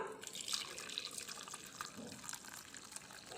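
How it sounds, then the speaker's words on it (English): Hot water pours into a bowl in a steady, soft splashing stream with light bubbling and trickling, quiet and close, running the whole time without talking. "now we will take a hot water and pour it into a bowl"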